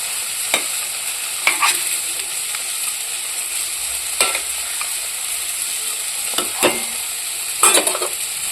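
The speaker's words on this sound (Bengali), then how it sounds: "মাছের ঝাল রেডি। আর 2 মিনিট ফুটবে" Spicy Bengali fish curry simmering in a pan, a steady sizzle and bubble with occasional scraping strokes of a spoon stirring, close and alone without any voices.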